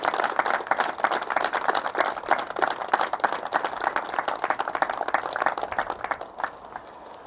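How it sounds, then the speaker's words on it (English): Outdoor crowd at a spring match fishing festival on a farm claps for sponsors, a brisk, steady round of close hand claps that carries for several seconds before trailing off. "I want a round of applause please for the sponsors"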